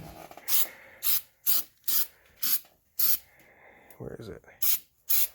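An aerosol can sprays rust protection coating onto a Honda Ridgeline in short bursts, about nine sharp hissing puffs at a steady rhythm, close by, with a brief spoken remark between them.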